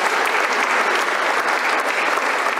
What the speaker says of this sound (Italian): L'applauso dell'Assemblea, un applauso caloroso